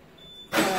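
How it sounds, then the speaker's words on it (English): A Subaru BRZ engine starts up abruptly, cranking into a loud, broadband roar that holds steady at close range. "we just need to turn the car on"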